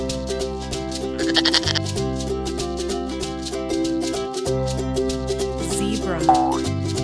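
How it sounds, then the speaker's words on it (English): A goat bleats over steady background music, its wavering cry rising briefly near the end of the passage. "goat."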